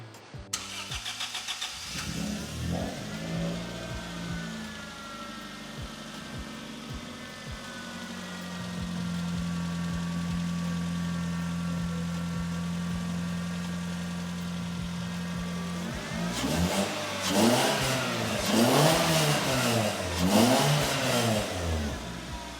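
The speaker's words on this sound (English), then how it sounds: "Give it the old Italian tune-up. That's what you do with a NA 4-cylinder, straight from cold." A naturally aspirated 3SGE BEAMS four-cylinder in a Toyota Celica cranks and starts from cold, settles into a steady high idle, then revs hard in repeated rising and falling bursts near the end.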